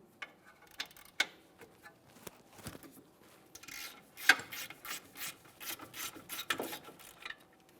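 A ratchet works loose the lower brake caliper bolt on a 2008-2017 Mitsubishi Lancer, with a quick run of close, crisp clicking pawl strokes after a few scattered knocks, fairly quiet overall.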